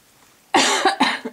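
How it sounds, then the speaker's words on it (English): A person coughs several times in quick succession after a near-silent pause, the harsh bursts close and fairly loud, the last one weaker and trailing off. "When I talk a lot, then I start coughing."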